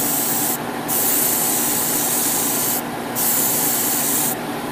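An airbrush or spray can lays a light base coat of paint onto 1/144 HG Gundam model kit parts. The steady, loud hiss runs in two long bursts, separated by short pauses.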